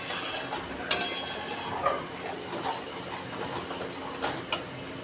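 A spoon stirs doi pona fish curry in a pan, giving soft scrapes and a few sharp clinks at irregular intervals, close and moderately loud, with no voices.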